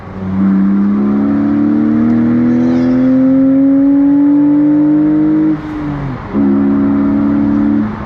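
A BMW Z4 E85 roadster engine climbs steadily in revs while driving up the Stelvio Pass, a loud, close drone rising in pitch, then dropping briefly as it shifts before pulling again.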